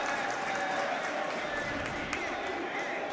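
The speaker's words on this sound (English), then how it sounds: "And the Huskies crowd erupts." Huskies hockey crowd in an arena, a broad roar of cheering and clapping that holds steady throughout, with a commentator talking over it.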